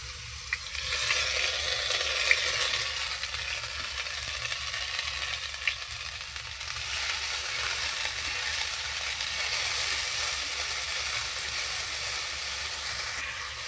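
Garlic paste frying in hot oil for a spicy tengra fish curry, a steady loud hiss and sizzle that holds for the whole stretch with faint crackles and no talk.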